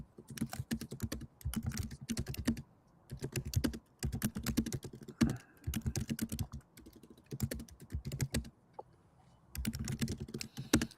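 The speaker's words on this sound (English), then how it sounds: "So I'm literally typing out prompts like a kid, right?" Rapid typing on a computer keyboard, close and fairly quiet, coming in bursts of quick clicks separated by short pauses.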